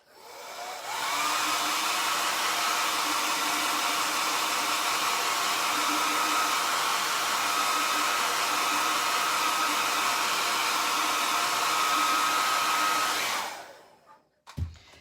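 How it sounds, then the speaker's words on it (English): A hair dryer drying paint on a glass canning jar blows continuously at a steady roar for about twelve seconds, then switches off, followed by a brief clatter. "when you're drying with a hairdryer on any kind of glass"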